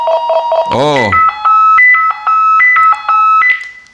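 A Chierda CD18P PMR446 handheld radio plays its ring tone, a close, loud sequence of clean electronic beeps that step through changing pitches. A brief warbling chirp comes just before the tones, and someone makes a short vocal sound.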